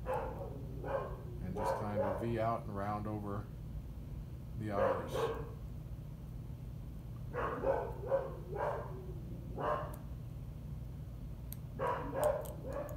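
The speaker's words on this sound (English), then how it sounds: "I don't know if you hear one of my dogs barking in the background" A dog barks several times in the distance, in short bursts under a person talking steadily nearby.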